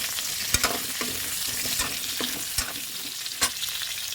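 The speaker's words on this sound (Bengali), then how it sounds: "এঁচোড়টা ভেজে নেওয়ার পরে আলুটা ভেজে একসাথে রাখছি" Potatoes frying in oil after jackfruit for a vegetarian jackfruit biryani, a steady close sizzle punctuated by several sharp spatula knocks and scrapes against the pan.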